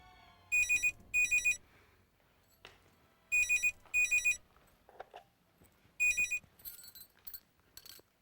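A landline telephone rings in a home, with three pairs of bright electronic trills separated by pauses and a few fainter household clicks and noises in between, with no talk.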